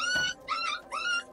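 A dog whimpers and yips in three short, high, whining cries, close and alone, in a village setting.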